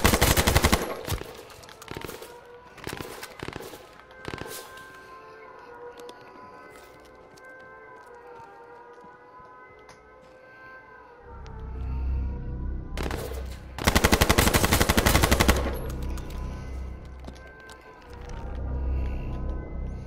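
Rapid bursts of automatic gunfire in the video game H1Z1, loud clustered volleys at the start, then a quieter stretch before heavy sustained firing returns, with no talking over it.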